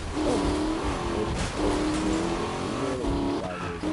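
Heavy car drifting, its tires squealing in long wavering bursts over a loud engine drone, with three main skids in quick succession.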